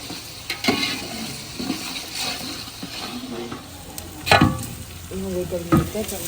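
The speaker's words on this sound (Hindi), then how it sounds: "अभी हम प्याज़ों का तड़का बनाएंगे।" Onions sizzling in hot oil for a large chicken pulao, a steady crackling fry with occasional scraping stirs, close up and without speech.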